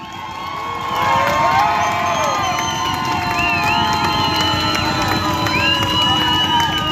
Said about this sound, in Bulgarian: Сега е ред за аплодисментите на Ибелин от легионите!